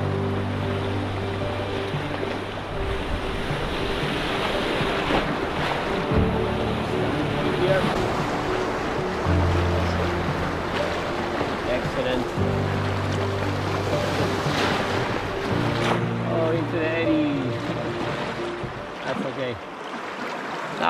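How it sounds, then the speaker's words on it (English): A solo canoe runs a stretch of white water rapids on a Yukon river, with steady rushing, splashing water and surf-like churn throughout, gusts of wind buffeting the microphone, and a voice speaking over it. "Lovely, lovely bit of white water."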